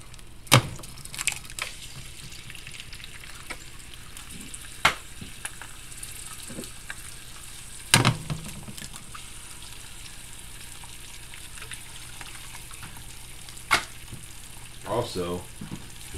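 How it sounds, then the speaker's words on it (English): Eggs fry in a pan with a constant low sizzle. Sharp clicks and clatters of utensils break through now and then. "I kind of fry my eggs"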